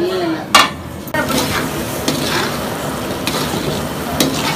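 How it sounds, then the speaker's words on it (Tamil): Prawns sauté in a pan with masala for a village-style non-veg feast, giving a constant close sizzle broken by a few sharp metallic clinks and scrapes of a stirring spoon. "கொஞ்சம் வதங்கினோன்னு எறாவை போட்டு வதக்கிட்டு இருக்காங்க"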